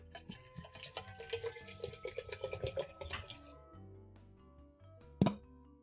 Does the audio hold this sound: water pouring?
yes